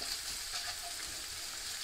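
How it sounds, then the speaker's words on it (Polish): A steady, quiet sizzle of onion frying in a pan, continuous hiss with no talking. "Wrzucamy cebulkę i smażymy ją do momentu zeszklenia."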